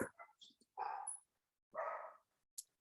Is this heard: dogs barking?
yes